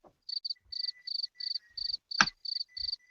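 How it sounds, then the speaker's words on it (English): Cricket chirping sound effect: a steady run of short, bright, high-pitched chirps in a regular rhythm, fairly close and clear, with a few soft low thumps and one sharp knock partway through. "he's got the cricket sounds already"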